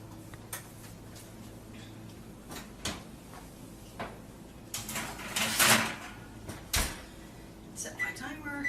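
Trays of communion bread go into a home kitchen oven: scattered clanks, knocks and a louder rattling scrape of metal midway, close by, under intermittent talking.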